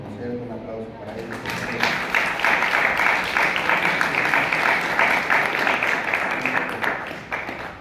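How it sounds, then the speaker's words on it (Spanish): Concert audience applauding at a cover show in Mexico City, a steady dense wash of clapping that swells after the first second and holds, with a voice talking over the start. "un aplauso para él"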